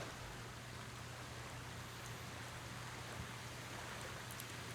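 Steady rushing of a waterfall in the Ghost of Tsushima video game, a constant broadband wash of falling water with a low hum beneath, even and unbroken throughout.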